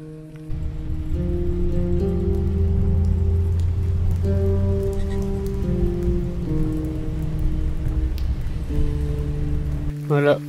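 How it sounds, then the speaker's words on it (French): Rain patters steadily on a vehicle in Swedish Lapland, a dense hiss over a low engine drone that continues throughout. "Il pleut toujours quoi."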